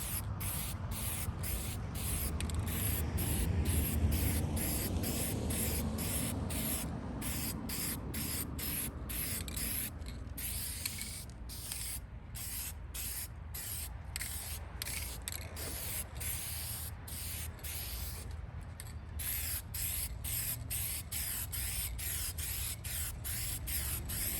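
Rust-Oleum hammered spray paint hisses from an aerosol can onto a truck's plastic bumper trim and fender covers, long steady sprays broken by many short gaps, close and fairly quiet.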